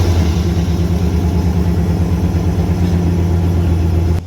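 A Dodge 5.2 Magnum V8 engine idles close by, a steady, even low rumble that holds constant throughout and then cuts off at the end.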